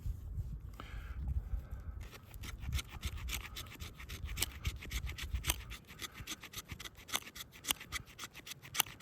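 A knife carves wood shavings for a fire outdoors, producing rapid repeated scraping strokes that are close, crisp and fairly quiet, with no talking.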